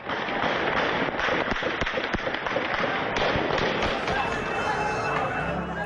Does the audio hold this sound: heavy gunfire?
yes